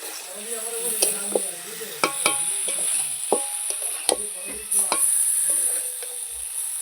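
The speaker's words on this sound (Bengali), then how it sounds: "আলু ফুলকপি দিয়ে নাড়াচাড়া করছি" Potatoes and cauliflower stirred while frying in a pan, with a light background sizzle punctuated by repeated sharp clacks and scrapes of the spatula at irregular intervals.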